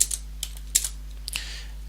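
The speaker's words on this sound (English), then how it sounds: "And now I could just type in" Fingers tap out code on a computer keyboard in a short burst of quiet, irregular keystrokes over a low steady hum.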